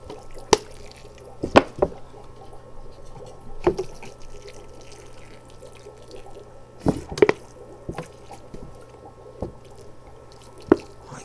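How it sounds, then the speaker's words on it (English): Bottled water poured onto the base of a young tree outdoors, landing as scattered wet drips and splashes, a few sharper spatters among softer trickles, close by with no talk. "I can take my bottled water and give it a nice little drink."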